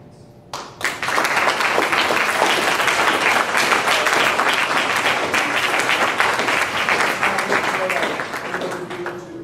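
Audience applause at an officer induction ceremony, a dense crowd clapping that swells quickly after a brief quiet start and holds steady and loud, tapering slightly near the end.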